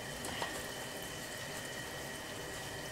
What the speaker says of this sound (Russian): Котлеты будем обжаривать с двух сторон до золотистой корочки.